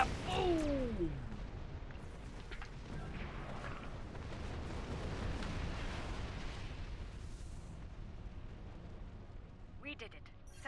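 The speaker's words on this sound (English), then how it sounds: "And kaboom!" A loud explosion in the space game Star Trek Online, a sharp opening burst that rolls into a long, dense rumble and fades over several seconds, with faint voices and effects mixed in near the end.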